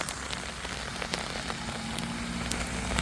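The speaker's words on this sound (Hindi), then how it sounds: "अभी तक बर्फ गिर रही थी, अब बजरी गिरने लग गई है।" Hail falls with rain and snow in Nainital as a steady hiss of precipitation, with scattered sharp ticks of pellets striking surfaces nearby.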